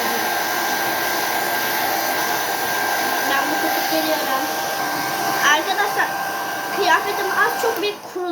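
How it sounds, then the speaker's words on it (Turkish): A hair dryer blows a steady, loud, close whirring stream of air to dry hair, running continuously, with faint rustling and a few short soft sounds near the end. "Saçımı da şimdi kurutuyorum hemen."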